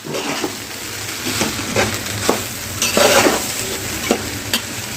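Fried rice being stirred with a packet of fried rice masala in a hot pan at home: steady oil sizzle with repeated scraping and clinking of a spoon against the pan, close and continuous.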